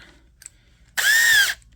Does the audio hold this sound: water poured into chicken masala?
no